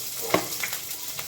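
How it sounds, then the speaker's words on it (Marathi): Green chillies sizzle and crackle in hot oil for kanda batata poha, with a soft spatter and a brief stir. "तीन ते चार मिरच्या टाकल्या जातात"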